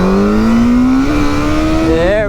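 Yamaha FZ8 motorcycle engine revving hard under acceleration, a loud close rising whine that climbs steadily in pitch before a quick shift and further surge.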